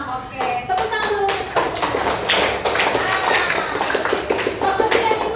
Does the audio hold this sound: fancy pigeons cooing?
no